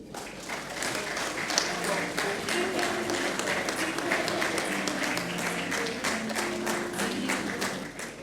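A crowd at an official ceremony honouring the Portuguese president applauds in a sustained wash of clapping, with a faint undertone of voices or music beneath it, steady and even throughout before easing slightly at the end.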